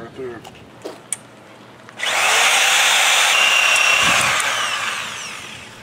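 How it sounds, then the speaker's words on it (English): A power drill bores holes into reef rock during the setup of a 180-gallon glass coral reef aquarium. After a few light knocks, a loud, steady, high whine runs close up for about four seconds and then eases off. "you're essentially drilling holes into the rocks"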